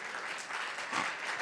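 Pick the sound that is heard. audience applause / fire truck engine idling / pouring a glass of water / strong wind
audience applause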